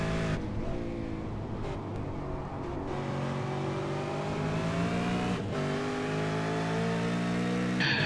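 A V8 Supercar racing at Brands Hatch, its engine roaring loud and continuous with rising and falling revs through gear changes, heard close and alone for several seconds.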